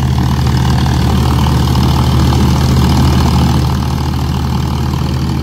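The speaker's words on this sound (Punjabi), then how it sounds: "ਤੁਹਾਨੂੰ ਟਰੈਕਟਰ ਦੀ ਆਵਾਜ਼ ਤੁਹਾਨੂੰ ਪਤਾ ਲੱਗਦਾ ਹੋਣਾ ਕਿੱਦਾਂ ਦੀ ਆਵਾਜ਼ ਹੋਈ ਆ ਟਰੈਕਟਰ ਦੀ" A tractor engine idles and runs steadily on a farm, a loud, close, low-pitched rumble with an even throb and no pauses throughout.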